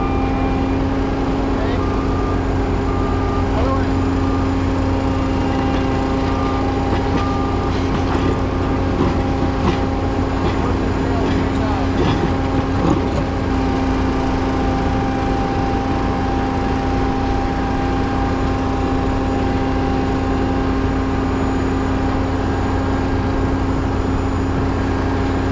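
Small engine of a drilling rig running steadily and loud throughout, with a constant hum and faint tonal whine, while people talk intermittently in the background during bit changes and locating work.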